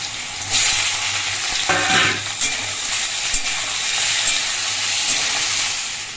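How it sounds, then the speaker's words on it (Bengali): Potatoes and cumin seeds sizzle loudly and steadily in hot oil. A brief stirring clatter comes near the two-second mark, and there is no talk. "ওই তেলের মধ্যে একটু দিয়ে দিচ্ছি জিরা ফোড়ন আলুটা একটু ভেজে নেবে লাল লাল করে"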